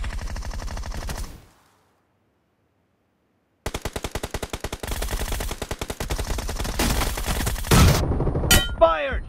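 Automatic gunfire in PUBG bursts out in a loud opening volley, drops to silence, then returns as rapid, evenly spaced shots that thicken into a dense fusillade, ending in clanks and a rising whine.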